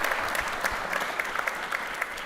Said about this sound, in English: How about a round of applause for our incredible